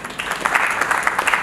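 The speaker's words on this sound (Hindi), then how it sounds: "मैं चाहता हूं कि आप उनके लिए भी एक बार जोरदार तालियां बजाएं।" Applause from the audience at a poets' honour ceremony, a short burst of scattered clapping with distinct claps rising and falling, moderately near and without talk.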